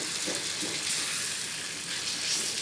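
Chicken pieces frying in hot oil for a kurma, a steady dense sizzle that runs without pause at close range, with no voices over it.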